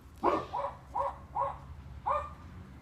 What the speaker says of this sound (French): Il y a mes chiens qui aboient.